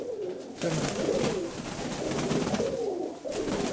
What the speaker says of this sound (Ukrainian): голубка, по-моєму, буде